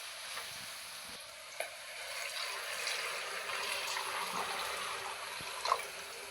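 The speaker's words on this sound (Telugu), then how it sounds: "దీంట్లోకి ఇప్పుడు వాటర్ అయితే యాడ్ చేయాలి" Water trickles and splashes quietly into a simmering mutton curry in a pot, a soft continuous pour with a couple of small clinks, heard close up and without talk.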